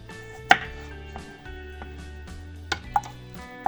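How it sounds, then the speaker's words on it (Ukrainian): Knife chopping two garlic cloves into pieces on a board for marinated courgettes with peppers: a few sharp isolated cuts, one loud near tap then sparser lighter taps, under steady background hum. "Розрізаю 2 зубочки чесноку на декілька частинок"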